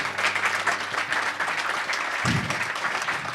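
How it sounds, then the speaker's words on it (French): Audience in a church setting applauds with steady, moderately loud clapping throughout, with a brief low thump partway through. "J'aimerais qu'on puisse donner une main d'applaudissement pour le temps qu'elle a passé avec nous."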